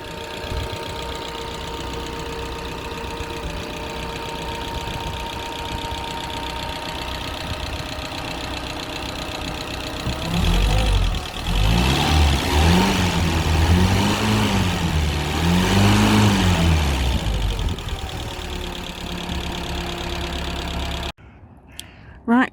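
Engine of a 1936 Hillman Minx car idles steadily and close by, then revs up and down in several swells before settling back, with someone speaking over the running engine.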